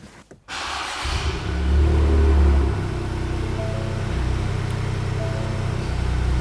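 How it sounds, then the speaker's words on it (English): A Ford Fiesta ST three-cylinder engine cranks and catches, revs briefly, then settles into a steady, throbbing idle close by. "It sounds like a thrummy little 3-pot, so let's start it up and see what it sounds like."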